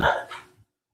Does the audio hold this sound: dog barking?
yes